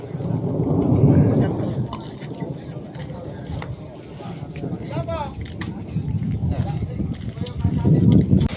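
Heavy rain with rolling thunder at an outdoor pigeon race in Lumajang, a steady dense wash of rainfall under low rumbles that swell at the start and end, with scattered sharp drips and faint background voices.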